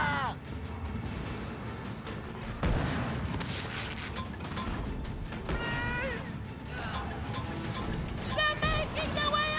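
Ship cannons boom during a naval battle in the pirate game Skull and Bones, with several heavy blasts spread across the stretch under voices talking and busy battle noise.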